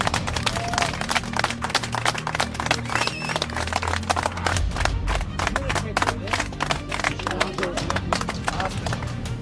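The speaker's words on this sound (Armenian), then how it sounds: "Ծափեր" Crowd applause at a 2018 march entering Yerevan, dense rhythmic clapping from many people, held steady and loud throughout, with voices mixed in underneath.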